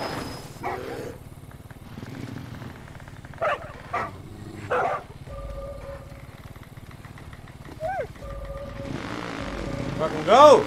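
A dog barks in the video game Far Cry New Dawn, several short sharp barks scattered over a constant engine-like drone, with someone talking throughout.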